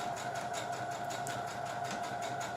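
A sewing machine runs steadily at a fairly quiet level, top stitching a zipped, piped bolster cushion, with a smooth continuous mechanical hum and fast needle chatter and no speech.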